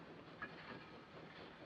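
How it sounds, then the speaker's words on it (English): A passenger train pulls away from a station platform in a 1940 film, its rolling clatter on the rails a steady, fairly faint rumble with light hiss, with no talk over it. "The train is leaving."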